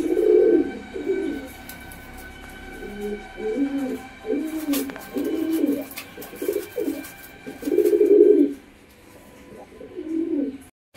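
An old-breed Giribaz pigeon, black-green in colour, coos repeatedly in short rhythmic bursts close to the microphone, with brief pauses between calls against a quiet background.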